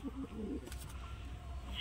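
Pigeons kept by a pigeon fancier give a soft, low coo near the start, brief and faint against background noise.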